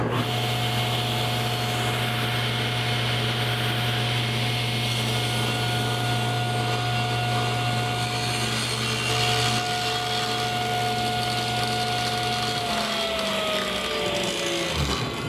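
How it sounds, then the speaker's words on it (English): Table saw fitted with a regular blade cutting a groove into a wooden table top over several passes; a steady, loud motor whine with continuous cutting noise runs throughout, then the motor winds down near the end. "I use my regular saw blade, so I had to run it through a few passes"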